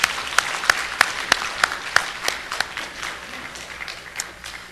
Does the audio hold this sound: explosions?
no